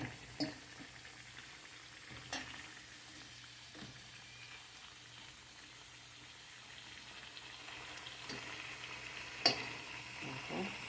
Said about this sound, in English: Keep flipping it over so that both sides can be brown before I take them out of the oil.